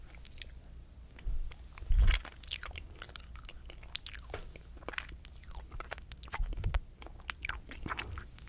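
Close, intimate biting and chewing of a Crumbl lime pie cookie with a crunchy, crumbly crust and cold creamy filling, soft crunches and wet mastication, with a louder bite early on.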